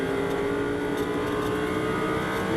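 GT4 race cars, Audi and BMWs, roar steadily around the Misano circuit, a dense continuous engine drone heard at a moderate distance without a break.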